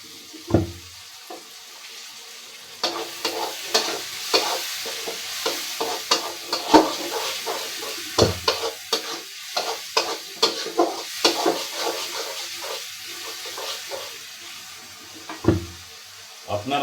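Masala spices fry and get stirred in a pan, giving a soft sizzle with repeated scraping and clinking strokes of the spoon at an irregular rhythm, close by, with a little speech now and then.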